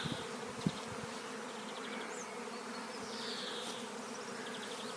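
A swarm of honey bees buzzes steadily around a willow tree at an apiary, a dense, continuous drone with individual bees passing close now and then.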